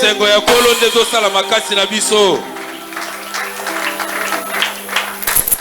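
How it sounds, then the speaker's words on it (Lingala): A church congregation at a Sunday service applauds, with a loud voice speaking first and then a steady wash of clapping through the second half. "Applaudissez, applaudissez, applaudissez."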